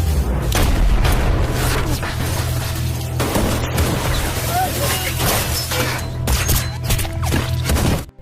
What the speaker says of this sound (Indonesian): Saat negosiasi berlangsung, Gayong dari belakang menembak Marco